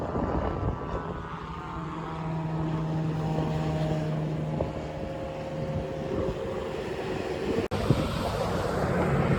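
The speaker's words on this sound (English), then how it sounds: "Little Cessna leaving Spirit of St. Louis Airport" A small Cessna plane departs Spirit of St. Louis Airport, its steady engine drone running at moderate distance throughout under outdoor wind and rumble, with a brief sharp click late on.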